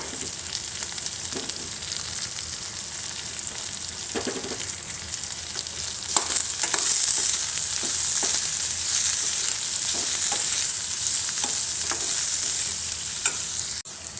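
Onions frying in a pan with spices for a Kongu-style salted lentil dish, a steady bright sizzle throughout that grows slightly louder midway, with occasional stirring clinks and no talk.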